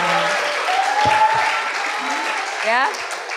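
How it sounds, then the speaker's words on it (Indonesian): An audience at a church closing service claps in a warm burst of applause for the organizing committee, with voices talking over the clapping. "tolong beri tepuk tangan kepada tim panitia yang luar biasa"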